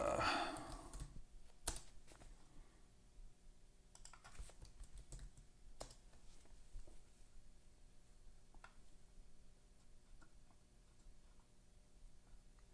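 Quick bursts of typing on a computer keyboard, clustered key clicks and taps close by over a quiet room, with a low voice murmuring faintly in the background.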